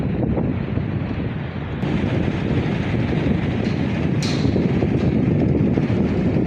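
Cold wind blows hard at the Kerung crossing in Rasuwa, a steady, loud, rumbling roar buffeting the microphone for the whole stretch with no letup and no voices.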